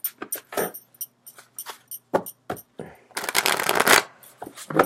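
Tarot cards being shuffled by hand in a series of quick riffles and slaps, with short bursts, pauses and a longer flurry near the end, close and crisp with no speech.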